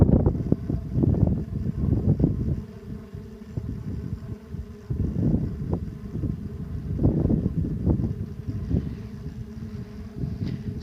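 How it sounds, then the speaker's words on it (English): Strong wind blowing hard in open country in Georgia, roaring in loud rumbling gusts that swell and ease across the stretch, buffeting the microphone with heavy low noise, no voices. "This is how high the wind is whipping right now. That's all the sound of the wind."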